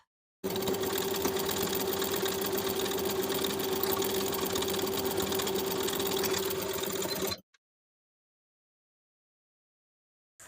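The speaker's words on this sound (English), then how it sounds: "we're going to edge stitch along that inner folded edge from the top and stopping about 3 inches from that bottom finished edge" A sewing machine edge-stitches along a folded fabric edge on a blouse, a steady, even whir of rapid needle strokes running continuously for about seven seconds, then stopping abruptly into silence.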